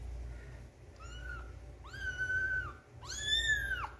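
A newborn kitten gives three thin, high meows in a row, each one longer and louder than the last, close by in an otherwise quiet room with a low background hum.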